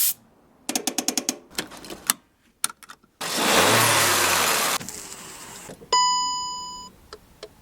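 A car parked behind a house starting up and revving: clicks and door-chime tones, then a loud sustained engine roar lasting about a second and a half, followed by quieter idling, electronic beeps and a fading tone.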